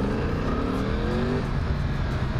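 A 2020 Yamaha R1 sportbike engine pulls steadily from about 2000 rpm, its loud, continuous drone climbing in pitch as the bike accelerates close by.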